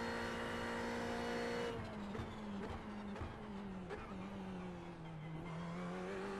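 Fanatec CSL DD direct-drive wheelbase driving a sim racing car on a flying lap: a steady engine drone rising and falling through gear changes, with brief tire squeal and skidding, loud and continuous with no talk.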